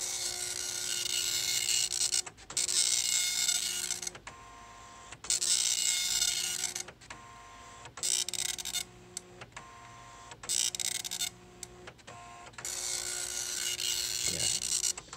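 Long-neglected Star Micronics NX-15 wide-format 9-pin dot matrix printer running without paper or ribbon, printing on its dusty roller: repeated harsh buzzing passes of a couple of seconds each, separated by short clunks and pauses, close up.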